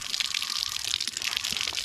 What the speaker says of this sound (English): This is how water flows.